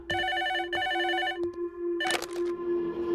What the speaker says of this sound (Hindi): ये फोन तेरे लिए है, जा जाकर उठा।